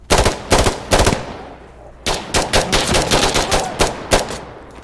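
Rapid automatic gunfire in the video game Insurgency Sandstorm, loud and close: two sustained bursts of rattling shots separated by a short pause, with almost no talk.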